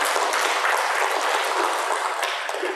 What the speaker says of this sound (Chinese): 来掌声鼓励啊！